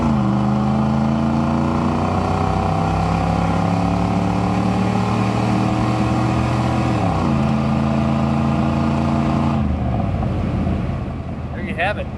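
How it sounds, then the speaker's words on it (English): A 1988 Chevrolet IROC with a TPI 350 V8 and factory exhaust revs steadily, with rising and falling harmonic engine tones and wind noise, then the engine drops away near the end. "let you guys hear that factory exhaust"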